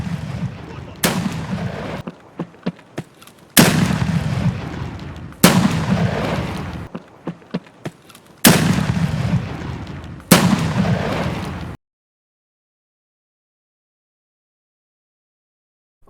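Shotguns firing in Escape from Tarkov, about five loud, booming blasts spaced a couple of seconds apart, each with a long rumbling tail, with small clicks and handling noises between them before the sound cuts to silence.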